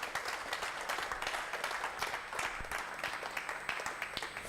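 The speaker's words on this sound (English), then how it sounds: "please applause for Michel" An audience at a conference applauds a speaker, producing a dense, continuous burst of many hands clapping with individual sharp claps poking through, held at a steady level throughout.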